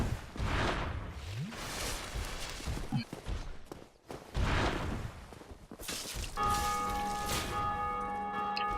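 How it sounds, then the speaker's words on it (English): A large bell tolls in Dark Souls Remastered, signalling another player's boss victory, its sustained ringing tones emerging in the last few seconds over game sounds of footsteps, swooshes and combat. "every time you hear that bell ringing, that's a real player in their world beating the boss and ringing the bell"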